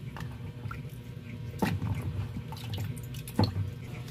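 Water running and dripping over freshly peeled potatoes being rinsed in a kitchen sink for adobong sitaw with pork, with soft splashes and a couple of louder sloshes, close and fairly quiet.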